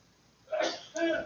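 A single sharp sneeze bursts out up close, with a quick intake and explosive release after a brief quiet pause.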